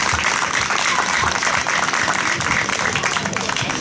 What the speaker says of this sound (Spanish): y un aplauso para recibirle